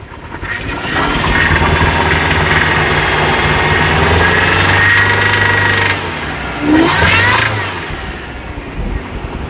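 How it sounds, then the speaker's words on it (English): Supercharged engine of a 1997 Subaru Vivio with worn connecting rods running and revving, a loud, close mechanical drone with a brief rise in pitch near the end. "aside of the cool supercharger noises that it makes"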